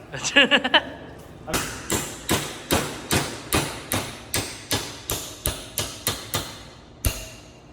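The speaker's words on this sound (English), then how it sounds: "We'll just bend them real quick in the vise." Metal lift tabs bent in a vise, a steady series of about fifteen sharp hammer-like metallic blows at an even rhythm, close and loud, after a brief ringing clatter at the start.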